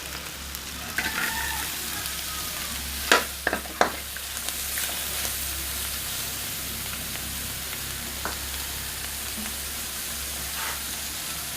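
Pork and onion sauté in a hot pan with a steady, moderate sizzle, punctuated by a few sharp utensil clanks early on, then settling into an even frying hiss.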